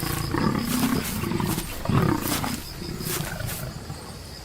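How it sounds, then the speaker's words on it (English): A lioness attacking a warthog in the African wild, deep guttural roars and growls repeating in rough bursts, loud and close with a raw, strained edge. "The lioness lunges with a brutal force, every muscle tensed as if sculpted for battle."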